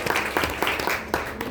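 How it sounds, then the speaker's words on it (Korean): Applause from an audience at a company presentation at a corporate headquarters, with a burst of dense clapping that stays steady, moderately loud and close. "박수 부탁드립니다"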